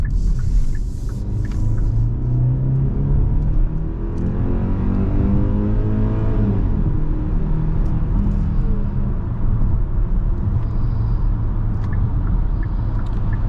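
2023 Kia Sportage with a 2.5 naturally aspirated four-cylinder engine and eight-speed automatic accelerating in sport mode: a loud steady in-cabin engine drone whose pitch climbs through a gear, drops at a shift, then holds under road rumble.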